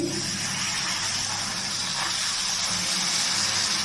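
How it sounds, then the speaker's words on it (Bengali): Boiled broth pours steadily into a pan of Bengali turnip curry with a continuous gushing, splashing wash, close and alone without talk. "সেদ্ধ করা ঝোল দিয়ে দিচ্ছি"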